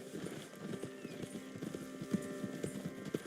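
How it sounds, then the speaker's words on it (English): Horse hooves clip-clop in a steady, close rhythm in the video game Red Dead Redemption 2, with a few sharper hoof strikes standing out over a faint background murmur. "Get a hold of that horse, will you?"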